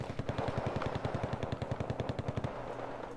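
Riflemen fire in a real-time strategy battle game, a rapid and evenly spaced burst of automatic gunfire for over two seconds, ending in a lower sustained rumble.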